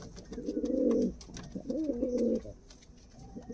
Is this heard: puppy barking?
no